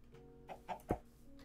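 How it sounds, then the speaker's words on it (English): A chicken in modded Minecraft gives a few short clucks in close succession, faint and clear over quiet game ambience. "Let's get the smart chicken, put him in there."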